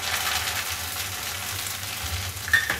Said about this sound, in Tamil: இந்த இலையெல்லாம் போட்டு கொதிக்கும் போது இந்த இலையோட எசன்ஸ் ஃபுல்லாக இறங்கி இலையெல்லாம் மொறுமொறுன்னு பொறிஞ்சிடும்